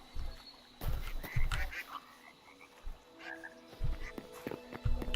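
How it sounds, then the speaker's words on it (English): Frogs croaking in the Hytale video game world: a cluster of low, gulping croaks repeating irregularly over several seconds, moderately close with no one talking over them. "Damn, look at all the frogs, man."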